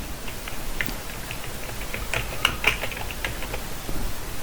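Typing on a computer keyboard while entering block names in JMRI model railroad software, a close run of light, irregular key clicks with a few sharper taps, no talk.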